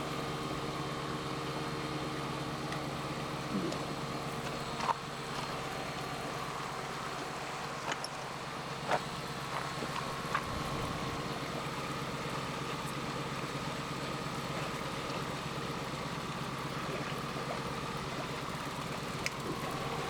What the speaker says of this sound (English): so the burner turns on.